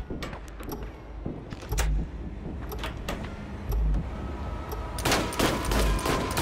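Video game gunfire in a dark hide-and-seek match: sharp bursts of shots crack out repeatedly, with heavy low thumps near the start, middle and end, loud and close, interspersed with quieter clatter.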